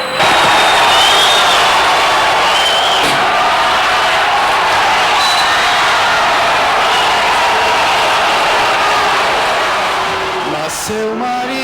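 A large festival audience in Brazil roars and boos at a protest singer, a dense, sustained wall of crowd noise that stays loud throughout and thins slightly near the end.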